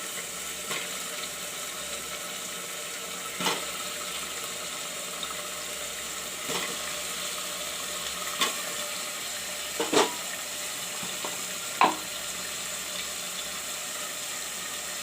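Potatoes frying in a pan for matar aloo, a steady soft sizzle running throughout with occasional sharp clicks and stirring taps, close by and with no talking.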